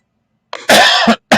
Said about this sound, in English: Excuse me, I'm going to have a cough.